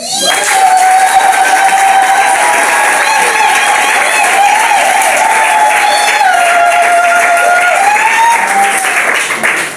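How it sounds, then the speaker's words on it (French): Guests at a civil wedding applaud and cheer for the bride, a dense, continuous crowd of clapping and raised voices with shouts and whoops riding on top for the full length. "écoutez, on va acclamer pour elle"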